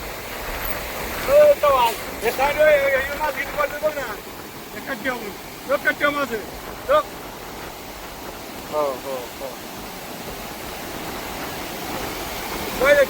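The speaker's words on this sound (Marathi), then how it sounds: "भीमा नदी दुथडी भरून वाहत आहे" The flooded Bhima river flows full at Pargaon with a constant broad rushing wash, while people talk intermittently over it.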